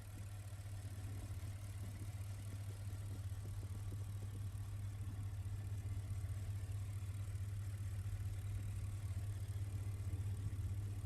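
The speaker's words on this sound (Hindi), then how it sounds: "V8 इंजन बेंटली का।" A Bentley Mulsanne's V8 engine runs at a steady idle, a faint, low, even hum that stays constant throughout with no voices.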